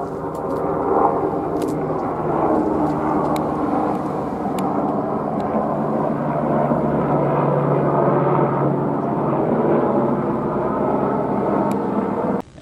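A helicopter approaching, a steady loud droning whir with low rotor hum building gradually, continuous and without voices.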